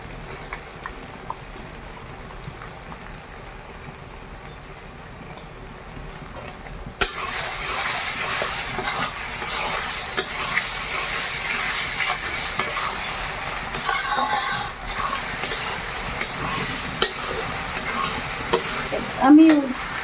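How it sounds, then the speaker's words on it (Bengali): Chicken kosha curry masala frying in a large wok, with a continuous sizzle and scraping stirs that get louder partway through, plus a few sharp clanks near the end. "এবার আমি আদা রসুন বাটাটা দিয়ে দেবো।"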